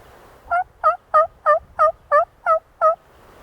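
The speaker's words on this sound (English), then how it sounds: "there's another turkey to my left" A wild turkey gobbler on Alabama public land gobbles in eight quick, evenly spaced bursts, clear and moderately close against a quiet outdoor background.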